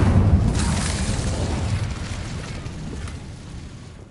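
Incendio spell blast in a fantasy video game, a heavy low boom at the start that settles into a sustained roaring rumble, slowly fading while staying fairly loud and close.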